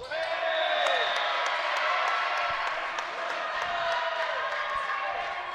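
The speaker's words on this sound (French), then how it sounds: "On entend la foule réagir pour les Vikings de Franco West" A crowd in a gym at a senior boys' AA volleyball championship match reacts with steady cheering, whoops and shouts, loud and continuous, with squeaking shoes and thuds punctuating throughout and a commentator's voice running over it.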